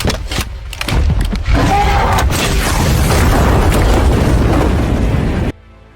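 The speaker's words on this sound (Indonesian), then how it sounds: "Artemis pun menembakkan RPG-nya." An RPG rocket fired and exploding in a Monster Hunter action film, heard as a loud, sustained booming blast with a deep rumbling roar that holds for several seconds before cutting off abruptly.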